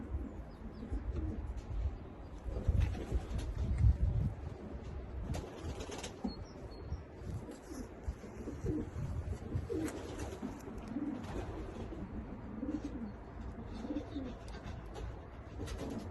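Kittel racing pigeons kept in a loft make soft, low cooing and occasional bursts of wing flapping, faint and close, with no talk.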